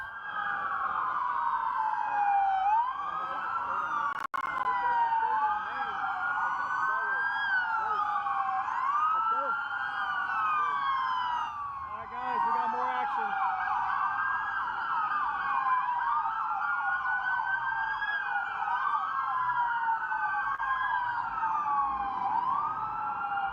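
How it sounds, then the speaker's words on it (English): Several police sirens wail at once in overlapping, rising and falling sweeps, loud and continuous throughout. "That's a lot of police cars"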